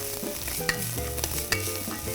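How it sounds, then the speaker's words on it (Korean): Scallion and garlic stir-fried in perilla oil, a soft steady sizzle with faint stirring scrapes and a couple of light utensil clicks against the pan, no voices. "여기 지금 들기름에 파하고 마늘을 넣어서 볶겠습니다"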